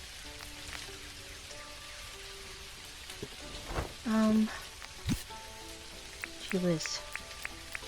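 Steady rain falls in the Australian-outback life-sim video game Dinkum, a continuous soft patter heard throughout. A person talks briefly over it, and a few short game chimes and blips break in.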